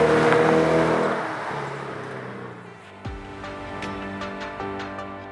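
A Chevrolet Corvette sports car drives past loudly, its engine roar fading away, then another steady engine note rises with revving tones and small clicks.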